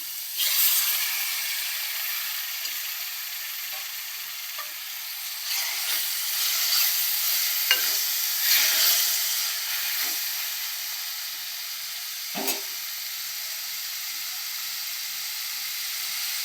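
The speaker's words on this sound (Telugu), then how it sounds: "ఇప్పుడు టమాటా వేసేస్తున్నాను." Tomatoes added to a hot pan for mutton curry sizzle and hiss steadily, a bright continuous frying sound with occasional small pops and crackles, moderately loud and close, with no talking.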